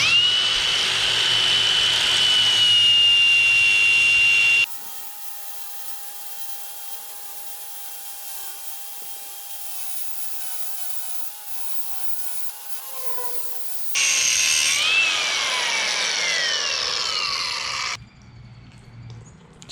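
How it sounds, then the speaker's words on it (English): Angle grinder cutting into the metal casing of a Kubota BX tractor oil filter, a steady loud high whine in two bursts with a quieter stretch between, close and with no talk. "I'm just going to be cutting it open with the grinder here"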